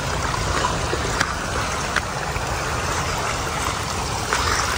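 A small stream runs through a narrow gully, giving a loud, steady, continuous rush of flowing water throughout with no voices.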